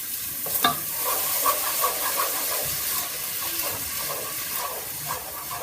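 Frozen vegetables for fried rice heat in a pan with added liquid, giving a continuous close sizzle and steamy hiss, with occasional stirring scrapes and light clinks and no voices.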